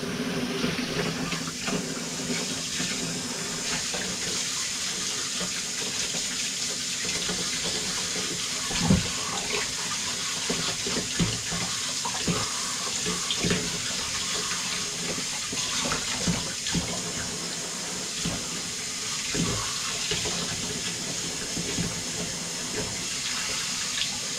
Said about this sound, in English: I will give it a proper rinse, a proper wash. Just get the tomato bits off it a minute.